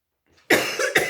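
A woman doing a scrapbooking project coughs three quick times close by, a sharp first burst followed by two shorter ones.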